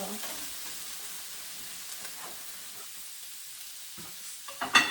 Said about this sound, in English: I stir a little bit so it can cook the other side